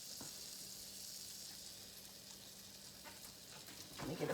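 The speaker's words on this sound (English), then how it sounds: "see how how the butter is like sizzling, so that lets you know it's ready" Butter sizzling in a hot pan before pancake batter goes in, a soft, steady close hiss with faint crackle, quiet throughout, with a short clatter at the very end.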